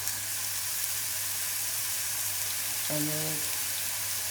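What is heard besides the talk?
patties sizzling in oil in frying pan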